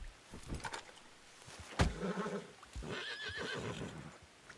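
A horse whinnies and snorts in Red Dead Redemption 2, a sharp burst followed by a high wavering neigh, with hoof clops and movement sounds around it.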